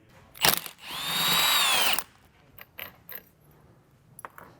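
A power tool fitted with a 19mm socket spins off the strut top nut on a Porsche 996 coilover, giving one whirring burst of about a second after a brief clack, then scattered light metallic clicks and handling noises.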